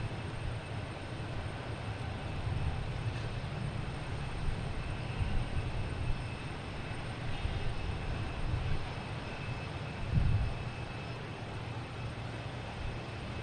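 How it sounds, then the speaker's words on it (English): A JetBlue airliner arriving from Buffalo at Boston Logan Airport, a steady, distant jet rumble that holds evenly, with one brief thump near the end and no talking. "we have JetBlue coming in from Buffalo"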